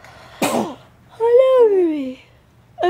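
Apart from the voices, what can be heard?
baby sneezing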